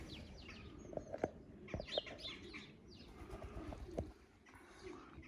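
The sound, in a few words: parakeet or cockatiel cooing like a pigeon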